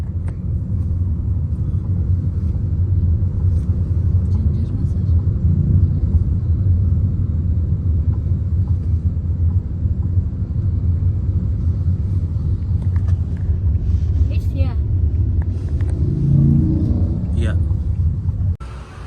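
Road traffic rumbles from inside a moving vehicle while driving in heavy traffic in Phuket, Thailand, a steady low drone that continues throughout, with brief voices near the end.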